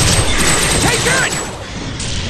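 Dense game gunfire from TimeSplitters: Future Perfect, a loud continuous battle din of rapid shots and booms that stays steady and then dips slightly near the end, with shouted voices mixed into the chaos.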